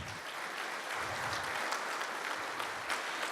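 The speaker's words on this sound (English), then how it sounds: "So let's give a round of applause for our organizers." A 1 Million Cups Kansas City audience gives the event organizers a round of applause, a steady, full wash of clapping from a roomful of people, holding level for a few seconds without speech.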